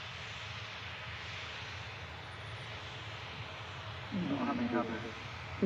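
Airliner traffic at Manchester Airport, with TUI Boeing 737 arrivals, gives a steady distant jet roar throughout, joined near the end by a brief low voice.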